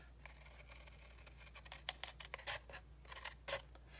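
Faint, quiet snips of scissors cutting paper, a few short crisp cuts spaced irregularly over a low steady hum.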